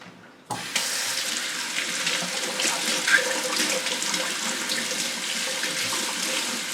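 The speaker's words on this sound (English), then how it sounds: "So I'm going to give it a good rinse." Tap water running from a faucet to rinse an orchid plant in a bark-potted setting, starting abruptly after a brief quiet moment and then flowing as a steady, close, loud hiss and splash with slight variations.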